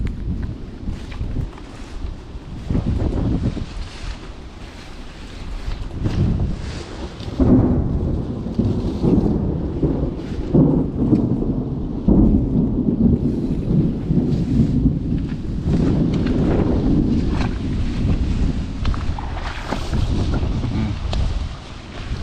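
Deep thunder rumbles on and off over steady rain and gusting wind that buffets the microphone, loud and continuous.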